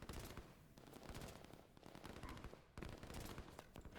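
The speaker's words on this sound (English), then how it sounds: "SMG of the commandos going nuts." Commandos' submachine guns firing in the strategy game Line War, rapid overlapping bursts of small-arms fire clattering continuously at moderate loudness, with no voices.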